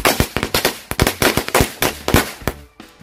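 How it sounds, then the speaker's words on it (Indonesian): Blue Corsairs match firecrackers, set out together in a row, go off in a rapid string of loud, sharp cracks. The bangs come close and irregular, sometimes overlapping, and the burst lasts about three seconds before breaking off. "kita nyalain mercon korek Corsairs yang warna biru"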